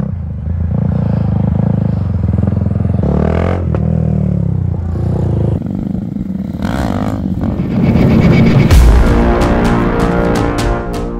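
Small motorcycles, a Honda Grom with a 140 big bore kit and a Honda Monkey, ride a tight mini track with continuous near engine drone, rising revs and shifting pitch, with sharp clattering ticks toward the end.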